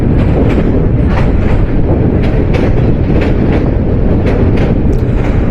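Titas Commuter 35 crosses the new Bhairab rail bridge in Brahmanbaria, heard from the roof as a loud, steady roar of the train with rhythmic clickety-clack from the wheels on the rails, close and continuous.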